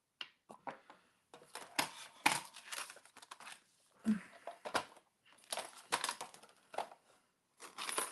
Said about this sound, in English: let's go ahead and die cut these pieces